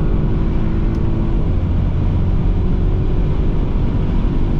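Audi RSQ8 accelerating hard on an unrestricted Autobahn at over 200 km/h, a loud steady engine and road roar from inside the cabin, with a smooth drop in engine pitch at a gear change.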